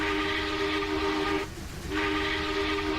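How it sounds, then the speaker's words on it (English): A steam locomotive whistle on a Smokebox Challenger in Train Simulator Classic blows a steady chord-like tone, breaks off briefly in the middle, then sounds again, loud and close with no talking. "That's a boring whistle."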